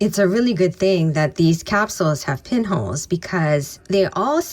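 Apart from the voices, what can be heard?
None of the usual background noises is heard.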